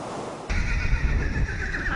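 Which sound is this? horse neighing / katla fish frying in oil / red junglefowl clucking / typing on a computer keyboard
horse neighing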